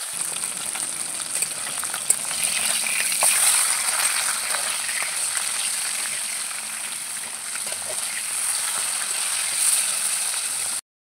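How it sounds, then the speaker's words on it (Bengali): Bata fish frying in hot mustard oil in a kadai, with a steady, close sizzle and crackle running throughout, a few brief clicks on top, and no talking. "দিয়ে দেবো মাছ ভাজার জন্য সর্ষের তেল"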